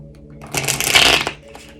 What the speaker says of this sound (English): It's a funky shuffle.